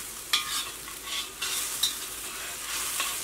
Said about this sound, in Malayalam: അപ്പോൾ അതിന് വേണ്ടിയിട്ട് ഇങ്ങനെ തുറന്ന് വെച്ചിട്ട് ഇങ്ങനെ ഇളക്കി കൊടുക്കാം.